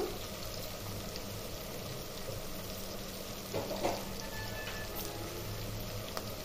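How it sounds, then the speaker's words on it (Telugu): Vegetables for sambar fry steadily in a hot pan, a continuous close sizzle with soft crackle and a few brief stirring scrapes, no voices. "ఇప్పుడు ఇవి బాగా వేగనిద్దాం."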